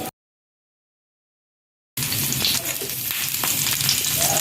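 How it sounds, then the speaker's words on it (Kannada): Rava-coated bangude (mackerel) fish frying on a hot tava, a steady, fairly loud crackling sizzle that begins abruptly after about two seconds of silence and continues evenly to the end. "ಈಗ ತವ ಒಳ್ಳೆ ಬಿಸಿ ಆದ ಮೇಲೆ ಫ್ರೈ ಇದು ರವೆ ಮೀನು ಹಾಕಿಕೊಳ್ಳಿ"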